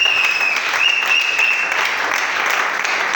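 A church congregation claps steadily and loudly together to acclaim the word of the Lord, a dense continuous applause filling the room with faint voices mixed in.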